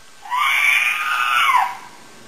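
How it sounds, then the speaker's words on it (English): A single sustained scream sound effect, played through a Bluetooth mouse droid from a phone app, rises and falls over about a second and a half, clear and alone. "The little face there is for a scream."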